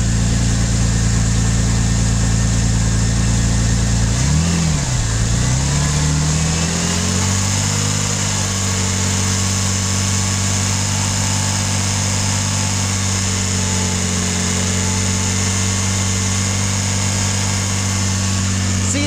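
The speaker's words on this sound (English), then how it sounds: "This is just the actual engine noise." A car engine runs steadily, heard as mechanical engine noise with no exhaust note, idling with a constant hum, one brief rev a few seconds in, then settling back to an even drone.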